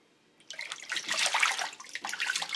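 Tap water runs and splashes in a sink as raw potatoes for home fries get their second rinse in a strainer, a steady rushing wash that starts after a brief quiet moment.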